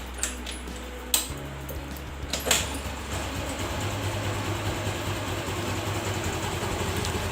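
A warm TVS Jupiter scooter engine cranks with a few clicks and catches, then settles into a steady, low idle that runs on evenly at close range.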